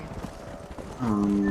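Horses being herded in the Red Dead Redemption video game, with hoof clip-clop under a low murmur, then a louder tonal neigh-like cry rising over the last half second.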